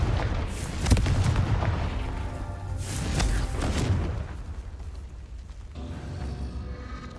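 In the Hogwarts Legacy video game, a Confringo spell blasts with heavy booming explosions: several deep impacts in the first four seconds over continuous game ambience, then a quieter rumbling tail.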